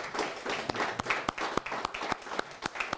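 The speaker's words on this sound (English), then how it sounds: "So let's give him a big round of applause." A small audience claps, with sharp individual hand claps standing out over a steady patter of applause throughout.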